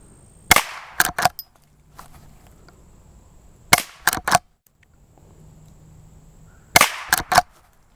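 Three sharp, loud shots from a Rossi Rio Bravo lever-action rifle firing near-subsonic rounds, each cracking close by and quickly followed by clattering lever-action cycling clicks, spaced roughly three seconds apart with quiet ambience between.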